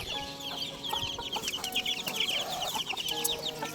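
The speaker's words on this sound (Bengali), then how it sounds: "এই যে আমার মুরগি সব খাওয়ার জন্য ছটফট করছে" A flock of chickens on a rooftop cluck and chatter restlessly while waiting for food, with overlapping short clucks and squawks in a busy, close, continuous stream and no talk.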